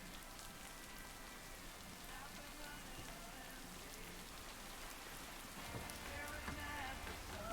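Steady video game rain patters and hisses on surfaces, an even wash of droplets that swells slightly toward the end; no voices.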